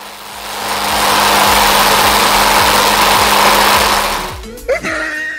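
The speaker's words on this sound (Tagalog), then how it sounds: "ang pag-start ng mower, ipukul mo yung starter cord." A lawn mower engine starts after a pull of the starter cord and runs at a steady, loud, rough drone, with rhythmic low pulsing, then cuts off abruptly near the end, followed by a few brief clunks.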